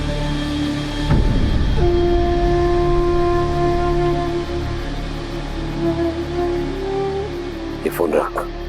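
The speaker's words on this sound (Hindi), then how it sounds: "इस तरफ वाली ट्रेन कराची जा रही है" A passenger train bound for Karachi near a station, a loud close rumble with a sharp horn blast rising partway through and continuing over the clatter of the cars, with a voice briefly over it near the end.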